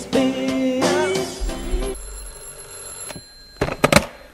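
Telephone ringing in a comic radio sketch, a bright electronic ring repeating in close bursts, then a brief handset clatter as it is picked up.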